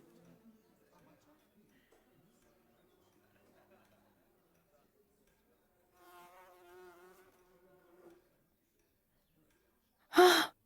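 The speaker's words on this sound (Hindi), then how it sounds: "मुझे लगता है इनका भिनभिनाना डराने लायक जोरदार है।" Insects buzzing in a Hindi action movie, a faint high whine that rises briefly before a sudden loud gasp.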